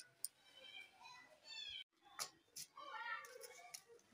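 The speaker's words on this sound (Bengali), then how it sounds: "ওই দেখো, মিয়াও, আমার ডাকছে তোমাকে, মিয়াও।" A house cat meows repeatedly at close range, several short plaintive calls in a row, with a brief break before more meows; a voice may mix in.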